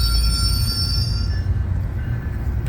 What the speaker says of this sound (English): this is another video of an EXO train ride here on the Vaudreuil-Hudson line heading towards Lucien-L'Allier, downtown Montreal